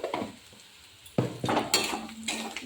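A spatula stirs frying onions, lightly sugared for color, in a cooking pan for a ghugni recipe: a quiet start, then a loud clank and a run of close scraping and metallic clatter against the pan.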